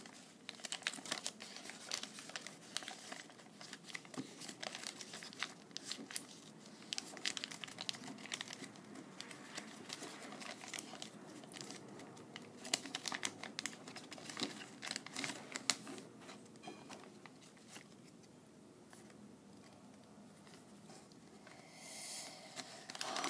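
Paper being folded and creased into an origami owl, busy close crinkling and rustling with sharp creasing snaps throughout, no speech.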